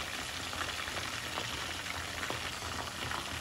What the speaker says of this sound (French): Attention aux éclats d'huile